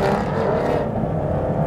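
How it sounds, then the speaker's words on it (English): Aston Martin Vantage GT12 with a naturally aspirated V12 engine revving loud and close, a dense sustained roar that dips slightly in brightness partway through the short burst. "Normally aspirated V12."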